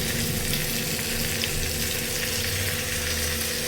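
Ginger garlic paste frying in hot oil for broken wheat bisibele bath, a dense continuous sizzle, loud and close, with a low hum beneath and no talking.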